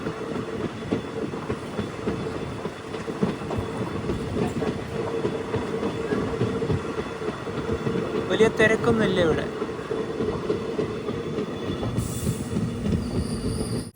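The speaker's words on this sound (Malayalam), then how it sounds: "7:38 ട്രെയിനിപ്പോൾ നാങ്കനേരി സ്റ്റേഷനിലേക്ക് ഇതാ എത്തുകയാണ്" A passenger train pulls into Nanguneri station in Tamil Nadu with a loud, continuous rumble of wheels on rails and a burst of squealing midway, while someone speaks over it.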